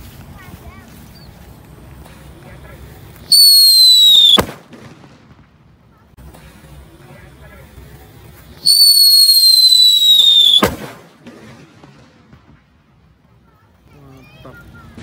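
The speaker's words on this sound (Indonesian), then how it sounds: "Selanjutnya kita nyalakan mercon super kaget" A super kaget firecracker is set off twice, each burst a loud shrieking whistle that ends in a sharp bang, separated by a few quiet seconds.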